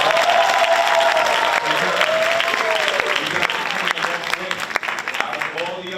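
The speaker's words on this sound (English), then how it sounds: "let's give them a round of applause" An audience applauds the competing teams at a Haitian history bee final, a steady round of clapping from a hall full of people that thins toward the end, with a host talking over it.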